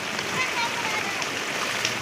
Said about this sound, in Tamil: நல்லா பெய்யுது பாரு மக்களே